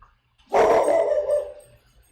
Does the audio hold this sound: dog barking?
yes